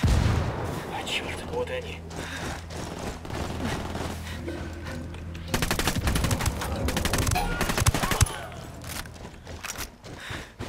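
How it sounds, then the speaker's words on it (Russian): Gunfire in a firefight between rebels and cartel in Ghost Recon Wildlands, with bursts of rapid automatic shots and scattered single cracks, some near and some distant, while someone talks over the shooting. "Повстанцы ведут перестрелку с картелем."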